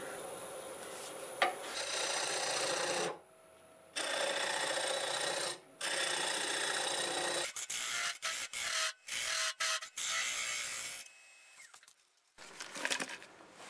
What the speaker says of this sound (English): go ahead and hollow this out. I think I'm going to use one of my little hollowing tools for it.